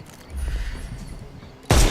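Gunfire in the video game Sherlock Holmes: Chapter One: quieter rumbling action sounds give way to a sudden loud, sharp burst of shots near the end.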